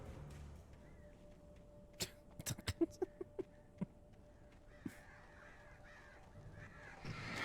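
Crows caw in the video game Alan Wake Remastered, a quick series of sharp, loud caws bunched in the middle, followed by a few scattered calls over a low ambient hum.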